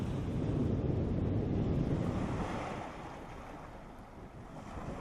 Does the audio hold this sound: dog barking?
no